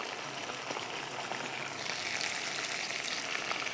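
Spices crackle and sizzle in hot oil for Lahori hareesa, a steady dense frying hiss that swells slightly partway through, with no talking.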